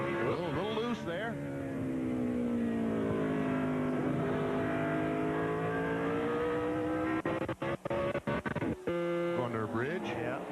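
Race cars screaming at high RPM at Watkins Glen, a sustained loud engine wail with rising and falling pitch and quick gear-change dips near the end, heard as a radio broadcast feed.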